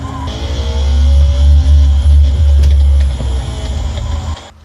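A loud, low rumbling buzz pulses for several seconds, the engine-roar vibration of a Thrustmaster T598 racing wheel in a video game, like a revving engine, then fades out abruptly.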